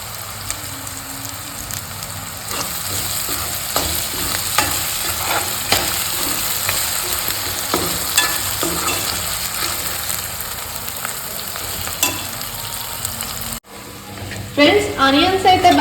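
Curry leaves fry in hot oil in a home kitchen pan, giving a dense, continuous crackling sizzle with scraping stirs. Near the end the sizzle cuts off abruptly and a voice speaks briefly.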